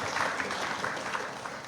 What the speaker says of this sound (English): I think they deserve a round of applause for the hard work that they've put in.